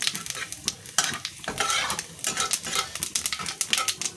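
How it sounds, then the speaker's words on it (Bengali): Cumin seeds are tempered in hot oil for a Bengali curry, giving a crackling sizzle broken by quick scraping stirs of a spatula against the pan. The close, busy clatter carries on throughout, and no one speaks. "বন্ধুরা এখন আমি ফোড়নে দিয়ে দেবো জিরে।"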